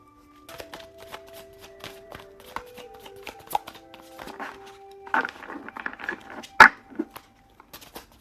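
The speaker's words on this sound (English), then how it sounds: "This is going to take me a minute to pull, just because we need some cards, but they'll pop." Tarot cards being shuffled and handled in a quiet room, a run of soft riffling pats and flicks with one sharper snap near the end, over a faint steady background hum.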